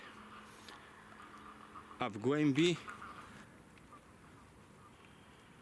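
Geese flushed from a Vistula riverbank give a short burst of loud honking calls over a couple of seconds, fairly close, then fade; someone speaks briefly afterward.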